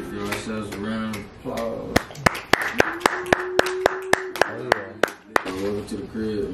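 A small crowd claps in a round of applause at a hip-hop show, sharp separate claps coming in quick succession up close, with someone talking before and after them.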